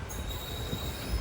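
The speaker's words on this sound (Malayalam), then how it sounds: "തിരുവനന്തപുരത്ത് നിന്നും 87 കിലോമീറ്റർ യാത്ര ചെയ്ത് ട്രെയിൻ ഇതാ കന്യാകുമാരി റെയിൽവേ" Trivandrum Express pulling into Kanyakumari railway station, a dead-end terminus, with a steady low rumble of rolling wagons and a thin high wheel squeal running throughout, fairly close and without talk.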